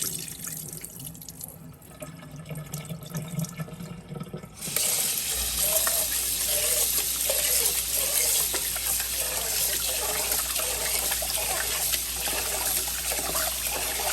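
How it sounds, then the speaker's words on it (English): Tap water runs steadily through rice in a bowl as it is rinsed, splashing and trickling through the grains, close and continuous after a quieter start. "I kind of let the water run a little bit through it"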